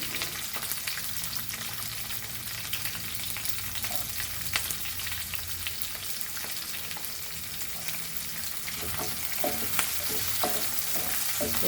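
Chopped onions sauté with chilies in a hot pan for an East Indian mutton trotters curry, a dense, steady sizzle with occasional clicks of stirring, close and continuous with no talk.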